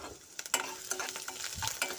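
Onions, chillies and crushed garlic fry in a pan, giving a quiet, steady sizzle broken by short scraping bursts as the mix is stirred. No voices are heard.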